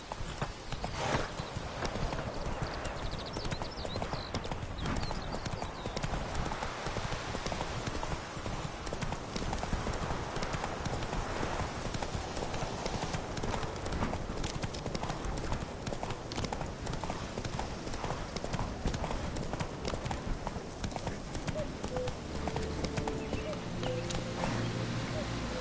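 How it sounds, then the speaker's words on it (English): Hoofbeats of a horse galloping in a video game clip-clop steadily and continuously throughout, a dense rhythmic patter with a faint whinny and game sounds mixed in, with someone talking over it. "Run, Roach"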